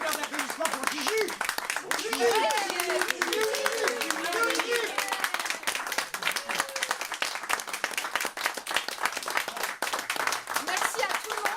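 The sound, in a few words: audience applause after storytelling performance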